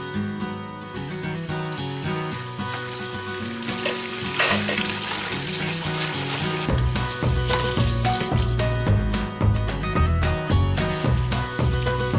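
Sausage and eggs sizzle and crackle in a frying pan with steady spattering, heard close up under loud background music that plays throughout.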